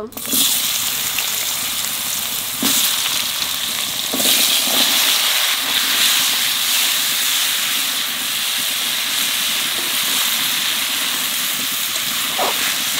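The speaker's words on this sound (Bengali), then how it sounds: "ওলগুলো ভালো করে ভাজিয়ে নেব" Chunks of elephant foot yam fry in oil left over from frying fish, giving a steady, loud sizzle and hiss throughout with a few brief clatters from the pan.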